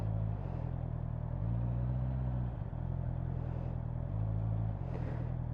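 A motorcycle engine running at low revs during slow riding practice, a steady close rumble that rises in brief gentle rev swells and settles again, with no talk.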